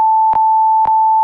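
An INAV flight controller beeper sounds a steady electronic tone, broken twice by brief dropouts, loud and close with nothing else heard.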